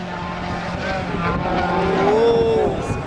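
A Citroen rally car at the 2009 Rally of Great Britain, its engine note rising and falling as it echoes around a valley from a distance, with a commentator talking over it.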